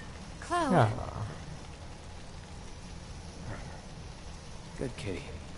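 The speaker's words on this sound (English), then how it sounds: "Good kitty." A cat in Final Fantasy VII gives a single falling meow near the start, followed by quiet game ambience with faint, brief sounds later.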